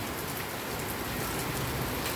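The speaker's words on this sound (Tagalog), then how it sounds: "malakas na naman po mga idol ang pag-ulan, no?" Heavy rain pours steadily outside a home near a drainage channel and garden plants, a dense, continuous hiss of downpour with no voices.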